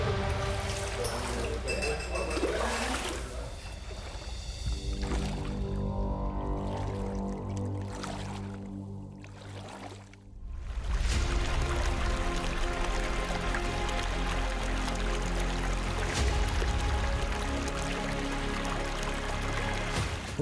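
Excess water pours steadily from a pipe into a stone pool inside a cave shrine, a continuous loud rush with a brief dip partway through.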